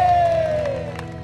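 Audience at a televised Indonesian motivational show cheering and applauding as a crowd, with a whistle-like tone sliding down over the noisy crowd sound in a short burst.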